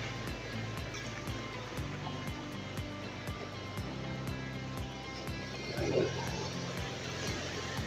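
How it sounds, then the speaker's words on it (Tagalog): Strong ocean waves wash and roar in a steady broadband rush near a fishing spot, with a swell building around the middle, heard from close by under a faint mechanical hum. "Talagang malalakas talaga yung alon yun mga master."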